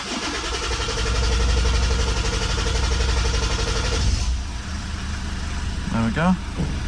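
A 2009 Lexus IS220D diesel engine turns over with a steady, loud starter-motor whir for several seconds, then fires and settles into an idle, with a brief voice near the end.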